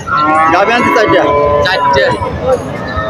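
Australian cross dairy cow at a rural cattle market letting out a long, loud, close moo with a rich harmonic tone, while voices murmur around it.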